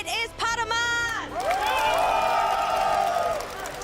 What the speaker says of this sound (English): Please give a huge cheer for our champion.